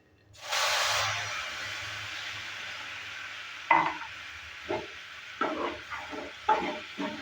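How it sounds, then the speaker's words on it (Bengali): Milk poured into hot roasting semolina in a wok gives a loud burst of steamy hiss that fades into a soft simmer. Several close scraping stirs of a spatula follow. "এবার দিয়ে দিচ্ছি দুধ।"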